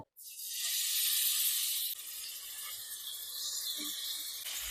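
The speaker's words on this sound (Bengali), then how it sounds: "এই পটল ভাজা তেলের মধ্যে চিংড়িটা ভেজে নেব।" Shrimp frying in the oil left over from frying pointed gourd gives a loud, steady, hissing sizzle that starts abruptly and continues throughout, easing slightly partway through.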